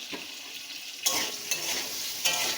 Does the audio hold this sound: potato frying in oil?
yes